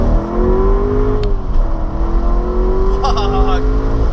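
A car engine pulls hard to 3500 rpm, a loud, close, rising drone that climbs steadily, with a brief shift-like dip and a whine near the end. Someone speaks over it.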